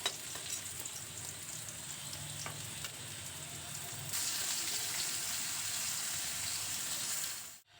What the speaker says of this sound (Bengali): এখন দুপাশটাই হয়ে গেছে এবার এগুলোকে আমি তুলে নিচ্ছি আর বাকি কুমড়োগুলো একইভাবে ভেজে নেব